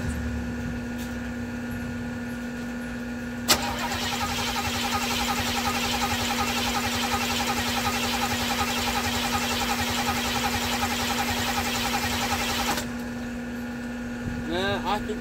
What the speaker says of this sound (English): I'm just going to try to start it up.